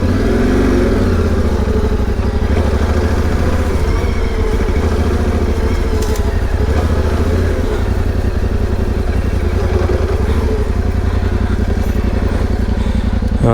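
A motorcycle engine runs steadily at close range as the bike is moved and parked, with a loud continuous idle, faint clatter and slight rises in revs.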